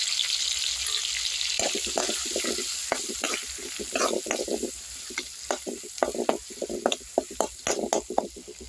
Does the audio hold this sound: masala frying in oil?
yes